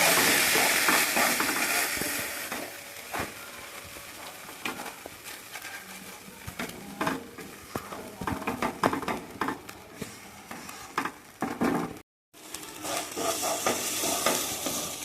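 Mashed sweet potato stuffing being stirred and fried in a pan, with steady sizzling and repeated scraping strokes throughout, a brief gap near the end before the frying and stirring resume, no voices.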